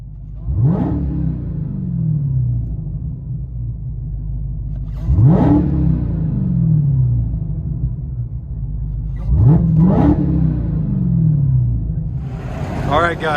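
Heard from inside a 2019 Dodge Charger Hellcat with Flowmaster Outlaw short mufflers and carbon tips, three deep rumbling revs rise and fall at regular intervals over a low idle.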